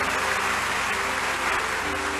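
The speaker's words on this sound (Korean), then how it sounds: "우리를 구원하신 하나님께 영광의 박수 돌립니다." A church congregation applauding to give glory to God, a dense, even wash of many hands clapping at once, loud and sustained throughout.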